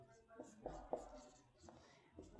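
Chalk or marker writing on a board during a math lecture, with faint scratchy strokes and taps in short irregular bursts, heard quietly beneath the lecturer's voice.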